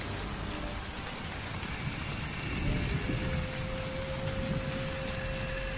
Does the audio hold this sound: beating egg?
no